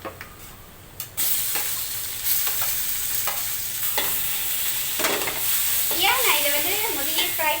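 Mantis shrimp frying with curry leaves in hot oil, a loud continuous sizzle and hiss that starts after a few light clicks, with stirring scrapes and a voice talking near the end.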